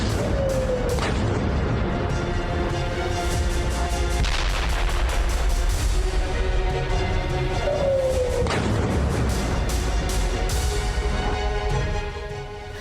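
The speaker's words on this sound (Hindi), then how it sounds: "आईडीएफ ने किया हवाई हमला" IDF air strikes on Hezbollah command centers in Beirut come through as sustained, loud rumbling booms and blasts with repeated sharp bursts, a dense continuous barrage that fades slightly at the end.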